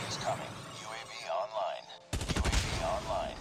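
A rapid-fire burst from a gun with the Dustkicker skin in COD Mobile cuts in sharply after two seconds and rattles on loudly over chirping electronic game sounds.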